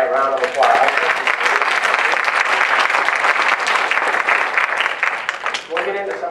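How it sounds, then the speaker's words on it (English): A presentation audience breaks into loud, sustained clapping that starts abruptly and fills the room for several seconds before tapering, with a voice audible at the start and end. "How about we give Emily and Samantha a round of applause?"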